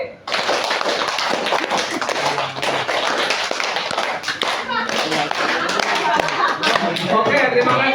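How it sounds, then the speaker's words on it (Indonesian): A group of people at a teacher-training session claps in rhythm, dense overlapping hand claps filling the space continuously, loud and near, with voices mixed in. "Tepuk 5 3 kali."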